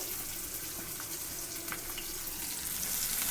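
Onions frying in hot oil until crisp, giving a steady, dense sizzling hiss with no talking.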